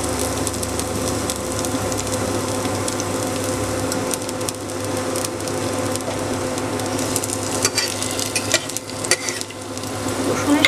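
Chopped garlic fries in a pan for a chana dal, giving a continuous sizzling hiss with occasional scraping stirs that grow busier toward the end.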